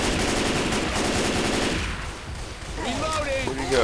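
Sustained rapid automatic gunfire aimed at the Tank in Left 4 Dead 2, loud and dense, thinning out partway, with a voice shouting under the shots near the end.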